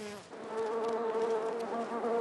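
A bumblebee buzzes steadily in flight close by, a continuous droning hum with a clear pitch that swells slightly as it moves, heard alone without voices.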